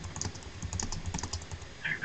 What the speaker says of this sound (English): He's typing now, so.